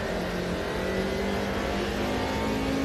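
A Mercedes race car engine drones steadily on the Nordschleife in the racing game Automobilista 2, holding a constant loud tone with no talking.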